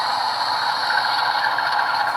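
A Rapido BC Rail Dash 8-40CM model locomotive fitted with a Loksound decoder crawls along at low speed, giving a steady mechanical whir with a faint ratcheting edge, close and continuous.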